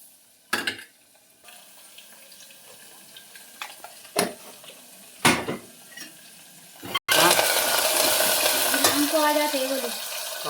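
Onion and moong dal are stirred in a pan: scattered spoon scrapes and clinks, then a loud, continuous sizzle as the ingredients hit the hot pan.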